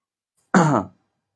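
A single short, loud throat clearing sounds close up, a rough guttural burst lasting under half a second, followed by silence.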